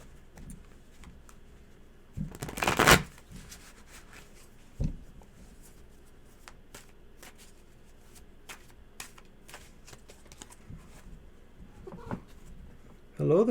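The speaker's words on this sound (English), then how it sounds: "I'll go ahead and shuffle those," A deck of tarot cards is shuffled in a couple of brief, loud riffling bursts between quieter handling sounds.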